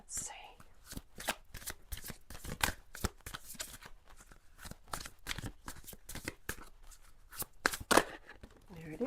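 Angel tarot cards are shuffled by hand in a rapid run of crisp riffling slaps and flutters, close and fairly quiet, with soft speech-like murmurs in between.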